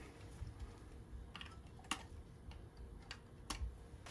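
Wire cutters snip the wiring connections inside a Teledyne Big Beam 166 hand lantern. A few quiet, sharp metallic clicks stand out over a faint background, with no talking.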